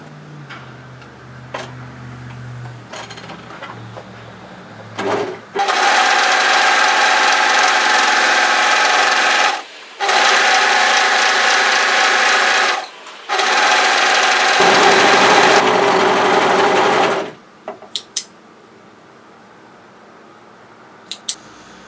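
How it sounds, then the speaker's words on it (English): An overlocker sewing machine stitches along a fabric hemline in three loud, steady bursts of fast mechanical whirring, each stopping abruptly, with short pauses and a few faint clicks between runs. "what I'm going to do is overlock the hemline to tidy it up."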